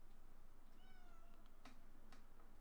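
A cat gives a single short meow, faint and somewhat distant against a low steady background hum, with a couple of small clicks after it.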